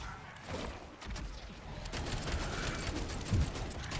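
Gunfire in Black Ops 7 Zombies, dense bursts of rapid game shots with sharp cracks layered over a busy background, moderately loud and continuous.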